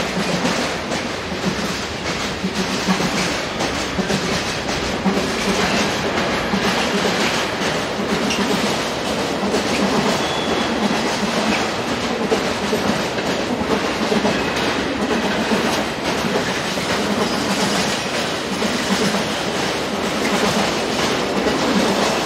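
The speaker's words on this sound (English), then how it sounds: "Our first scene shows Dispolok High Loco number 182568 on a container train operated by Wiener Local Bahnen Cargo Limited." A Dispolok electric locomotive, number 182568, hauls a Wiener Lokalbahnen Cargo container train past in autumn 2009, with a loud, continuous rumble and rhythmic clickety-clack of wagon wheels throughout.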